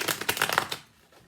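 Cosmic Tarot cards are shuffled up close, a quick run of riffling, flicking snaps that stops abruptly and leaves near silence.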